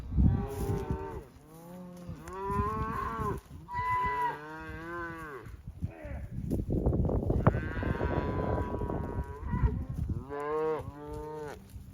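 Cattle moo repeatedly during a spring ranch roundup, with several long, loud, drawn-out calls from more than one animal close by, some overlapping, and a short lull between calls.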